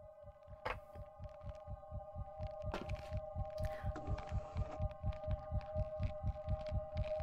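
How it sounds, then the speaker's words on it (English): A steady, throbbing heartbeat thumps in an even rhythm throughout a horror video game, layered under a constant droning hum with occasional brief clicks and a short hiss. "Well, I heard heartbeat."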